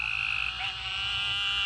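A gray tree frog calls in the mountains of Tennessee, a loud continuous trilling croak close by that fills the whole moment, with no voices over it.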